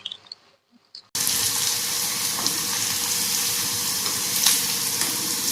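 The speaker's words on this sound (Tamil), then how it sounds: "நம்ம எல்லா மீனும் வறுத்து எடுத்துக்குவோம்." Fish pieces frying in hot oil for meen achaar, a loud, dense sizzle that starts abruptly after a second of near-silence and continues steadily with occasional pops and crackles.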